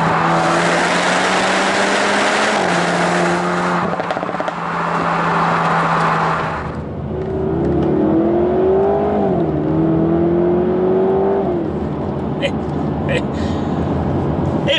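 A Jaguar F-Type with a 2.0-litre engine revs its engine and exhaust, holding a steady drone that rises and falls. The sound stays loud and close, then eases into a lower, wavering engine note, and someone speaks over part of it.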